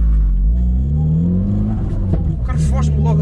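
A Cupra R accelerates with its wheels spinning, a loud, close engine roar climbing in pitch under excited voices talking over it.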